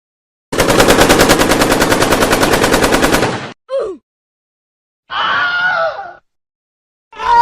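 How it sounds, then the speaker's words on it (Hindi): A long burst of rapid machine-gun fire rips through a hall in an audio drama, followed by a short cry and then a stretch of loud, anguished screaming, each sound standing apart with silence between. "सारा हॉल गूंज उठा उस प्रलयकारी गोली के धमाके से।"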